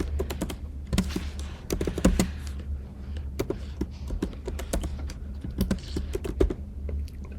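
Java code is typed on a computer keyboard in quick, uneven bursts of close, crisp key clicks and taps, with short pauses between runs and a low steady hum underneath.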